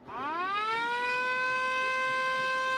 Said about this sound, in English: I will give you a little Washington siren.